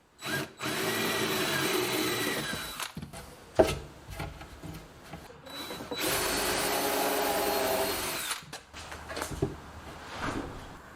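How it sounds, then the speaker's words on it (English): A power drill countersinking screw holes whirs in two long runs, close and loud, separated by short clicks and bumps of handling. "I want to countersink the screws so they're flush in the back"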